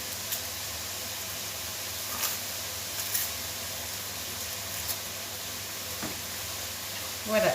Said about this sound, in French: Pendant que mon lard rôtit, je vais peler mes pommes de terre